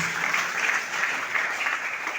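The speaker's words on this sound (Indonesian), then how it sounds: "tepuk tangan untuk Tuhan Yesus." A church congregation claps steadily through a Christmas sermon service, a dense, even wash of many hands filling the room with no voices over it.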